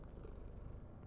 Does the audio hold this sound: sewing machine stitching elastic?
no